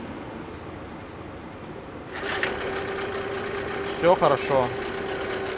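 A Hangkai 9.8 outboard boat motor under repair fires up and runs with a steady, buzzy mid-pitched drone after a quieter start, with a brief clatter near the end and a short spoken remark over it.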